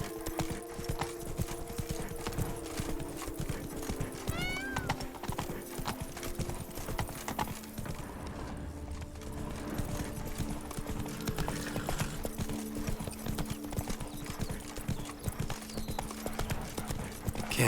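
The horse Roach trots through the Witcher 3: Blood and Wine video game, its hooves clip-clopping in a steady rhythm. A brief whinny and background game ambience sit under the hoofbeats, all at moderate volume with no talk.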